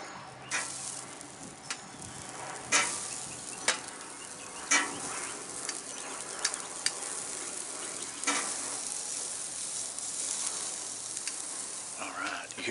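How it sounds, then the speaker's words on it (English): All-beef hot dogs sizzling on a park model grill, a steady crackling hiss with occasional louder pops and spits, close by and continuous. "Hear that sizzle?"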